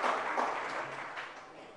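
Audience applause welcoming a guest at a Jain religious question-and-answer gathering in Agra, a steady, dense wash of clapping from a crowd that holds at an even level and tapers slightly toward the end.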